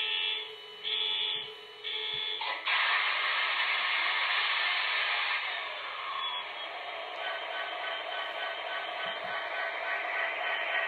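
An MTH SD70ACe model diesel locomotive runs its DCC startup sound: a short buzzing alarm chirp, then a steady, loud, hissing and droning engine rumble that holds unbroken without any voices.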